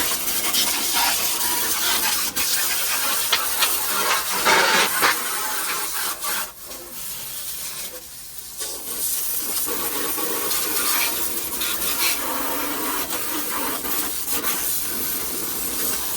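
Pressurised water sprays steadily over the engine bay of a 1969 Mercury Cougar XR7 convertible, a loud, close hiss that shifts as the stream moves across surfaces, with no talking.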